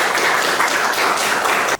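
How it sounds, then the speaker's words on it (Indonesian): Lecture audience applauding a student at a university teaching session, a brief dense burst of clapping that fills the room and cuts off sharply after under two seconds. "Kita tepuk tangan untuk Feby."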